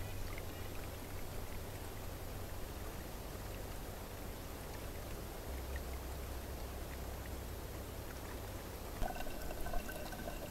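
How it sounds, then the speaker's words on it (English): Water poured slowly into a pre-filter ahead of a Sawyer Squeeze filter makes a soft, continuous trickle and patter, faint and even throughout, with a few small splashes near the end. "You'll notice that it's a slow pour, but it's coming out the exact same speed at the other end of the filter anyway."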